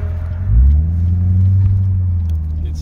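A Corvette Z06 Stingray rolling through a U-turn on blacktop, its engine a deep, steady rumble that swells briefly and then holds at a low, even drone, close and fairly loud with no voices.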